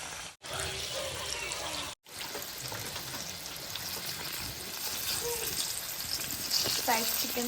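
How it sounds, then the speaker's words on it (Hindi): Chicken sizzles steadily in hot oil for homemade crispy fried chicken, a dense continuous crackle that grows a little louder toward the end, with two brief cut-outs near the start and faint watery clinks. "फ्राइड चिकन बना रहे हैं हम अभी"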